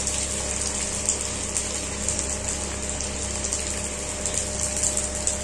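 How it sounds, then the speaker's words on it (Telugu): Pani puri dough balls fry in hot oil, a dense, steady sizzling hiss that stays close and loud throughout with no pauses. "వీటిని రెండు సైడ్లో మంచి కాల్చుకుని క్రిస్పీగా అయ్యేలాగా చేసుకోవాలి."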